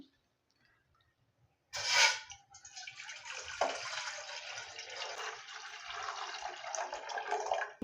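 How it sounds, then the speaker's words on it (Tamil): One litre of water pours steadily into a pot for several seconds, a continuous close splashing rush that begins abruptly and keeps going without talk. "இதுக்கு 1 லிட்டர் தண்ணி ஊற்றணும்."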